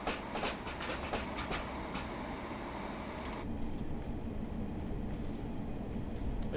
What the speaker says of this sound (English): A big clickety clack. Very much like you would hear when a freight train's going past.